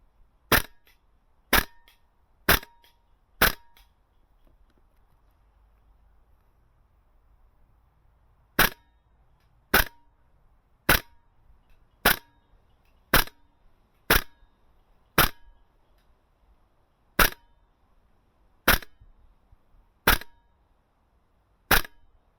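Sig Spear LT gas blowback airsoft rifle with a TM MWS magazine firing 0.4 g BBs, sharp crisp single shots: four in quick succession, a pause, then a steady run of about a dozen evenly spaced cracks, loud and close with no talk.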